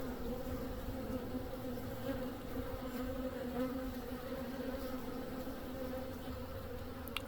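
A honeybee swarm buzzes steadily around a hive box, a dense continuous hum holding level throughout with no voices.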